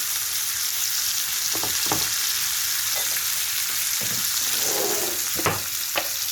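Sucuk sausage and eggs sizzle and crackle steadily in a hot pan, with occasional scrapes and pops from stirring, close and continuous.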